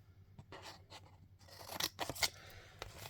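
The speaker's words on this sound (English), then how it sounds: "So I'm just going to cut it to size," Scissors snip through cardstock in a quiet room, a few soft, close cuts that build to sharper crunching snips near the end, with no talking.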